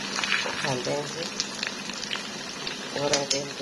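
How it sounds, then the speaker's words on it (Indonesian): Tempeh frying in a pan of hot oil gives a steady crackling sizzle throughout, close and moderately loud, with bits of speech-like tones passing over it. "goreng tempe."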